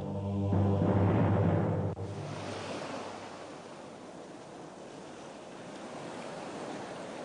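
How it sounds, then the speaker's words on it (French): Ocean waves surge and break against coastal walls in Morocco as a steady, broad wash of surf, preceded by a brief louder tonal passage that cuts off after about two seconds. "Les murailles retiennent les vagues, transforment l'océan en frontière."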